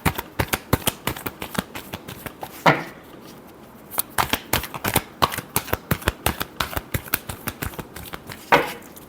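Tarot cards are shuffled by hand in a rapid series of crisp riffling snaps and flicks, close and clear with brief pauses, a few soft voice fragments between.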